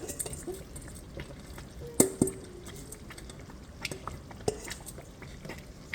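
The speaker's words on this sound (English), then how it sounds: "Now I'm gonna put my wash rice in here." Washed rice going into a pot for jollof rice, soft wet squishing and stirring with a few sharp clinks against the pot, quiet and close, no talk over it.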